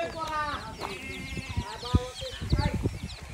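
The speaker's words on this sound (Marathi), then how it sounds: "कोंबड्या पण आहेत." Chickens cluck at a rural temple farm among sheep and goats, with bleats and short fowl calls scattered across a busy outdoor background, mixed with nearby voices and movement.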